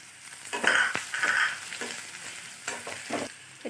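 Chopped ginger sizzles with onions in a hot pan while a spoon stirs, giving scraping strokes and bursts of crackling oil, close and moderately loud, with no talking.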